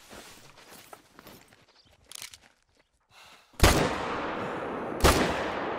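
Two loud, sharp rifle gunshots ring out in the hunting game The Hunter: Call of the Wild, each followed by a rolling echo, after quieter rustling footsteps and movement.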